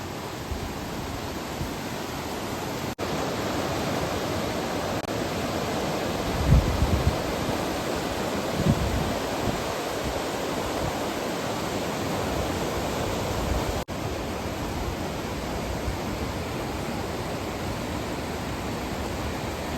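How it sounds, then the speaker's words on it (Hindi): Steady broadband rushing of a river flowing nearby on a trek in Nepal's Langtang Valley, constant and full, with no voices. "नदी के पानी के बहने की आवाज़ सुनाई दे रही हो"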